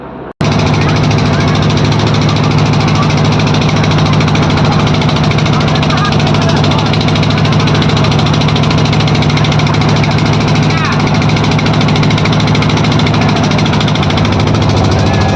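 The loud, steady drone of a trawler boat's engine runs without a break, a deep humming throb directly beneath the Padma bridge on the river near Mawa ghat, continuous and close throughout.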